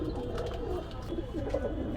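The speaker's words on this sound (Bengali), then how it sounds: "এই এক পেয়ার গলালাল কবুতর ছাড়তেছি" Pairs of pigeons at a pigeon market in Golamari, Khulna, give soft, repeated cooing close by against a low, steady background murmur.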